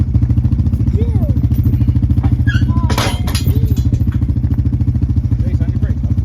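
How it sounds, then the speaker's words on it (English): Homemade bale unroller unrolling a hay bale on a farm, a loud, steady mechanical drone with constant rapid clatter throughout, and brief voices calling out over it. "so we just unrolled a bale"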